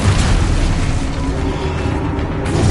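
Blasting spell explosions in a Harry Potter game, a dense continuous rumble of booms and bursts, loud and close, with no pauses between blasts.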